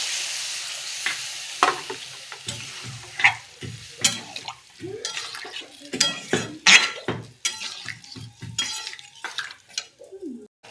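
Water added to a pan of yard-long bean, pumpkin and potato curry sets off a hissing sizzle, followed by repeated stirring scrapes and sharp metallic clinks of a spoon against the pan, close and uneven.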